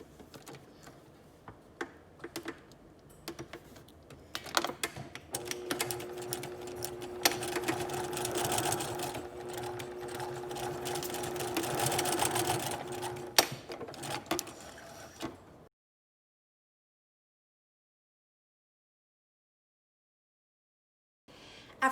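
A sewing machine runs a steady stitching seam along the underseams of a puff sleeve's facings, a continuous close whirring hum with rapid needle ticking that builds slightly, then stops abruptly into silence.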